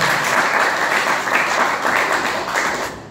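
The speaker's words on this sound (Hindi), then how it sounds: "गुरुदेव के लिए, चौहान गुरुजी के लिए जोरदार तालियां।" Loud, dense applause from an audience honouring a guru at a gathering, a continuous wash of many hands clapping close and strong for about three seconds, slightly easing at the end.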